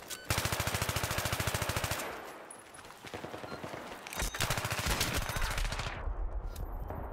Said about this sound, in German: ich höre schon, wie die Schüsse kommen und mich treffen